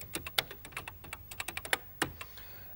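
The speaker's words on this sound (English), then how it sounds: "if I type in Space Shuttle" Typing on a 1982 computer keyboard, a run of sharp, close key clicks in an uneven rhythm with a louder stroke near the end, heard alone.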